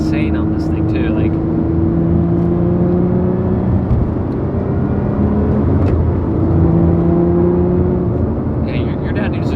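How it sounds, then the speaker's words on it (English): Supercharged V6 engine of a 2021 Lotus Evora GT on the move, a steady droning hum with tonal whine and road rumble, running continuously beneath conversation inside the car. "sounds insane for being a Camry V6. I mean, it is supercharged, but this is such a good sounding car"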